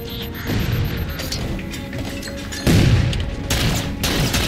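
Frag grenades explode amid gunfire in a Halo 4 campaign fight, heavy booming blasts landing near the start and again past the midpoint over a dense clatter of combat noise.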